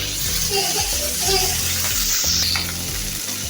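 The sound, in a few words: fish frying in a pan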